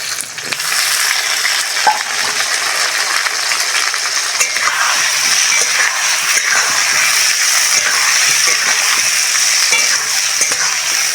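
Cut and washed potatoes go into hot oil over fried onions and sizzle steadily and loudly, with a constant crackling fry and stirring for the whole stretch.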